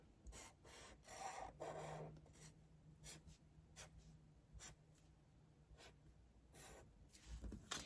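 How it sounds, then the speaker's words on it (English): A pen drawing a solid shape on paper, quiet scratchy strokes in short bursts with brief pauses between them, no talking. "I can even draw a solid shape."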